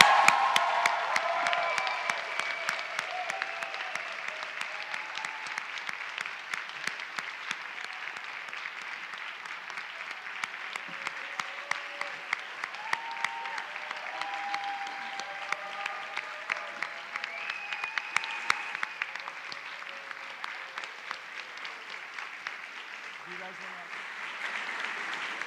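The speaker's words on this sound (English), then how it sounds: "So please give a big, big, big applause to the media team for making this." A large audience at the 90th International Session of the European Youth Parliament gives sustained, steady applause for the media team, lasting about twenty-five seconds, with a voice heard faintly beneath it.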